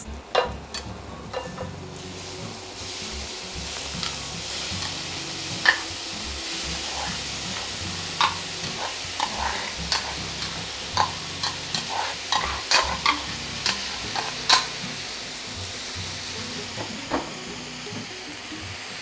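Jackfruit stirred into a hot pan with turmeric: a loud, continuous sizzle broken by repeated scraping strokes of a spoon against the pan, some strokes sharper than others.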